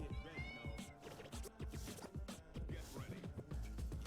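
A cat meows a few times near the start, with faint high tonal calls over a dense, busy background of music and other noise that continues throughout.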